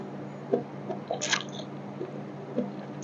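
Someone bites and chews a crunchy, slightly sweet snack that tastes like potato, giving a few soft close crunches and moist chewing sounds over a steady low background hum.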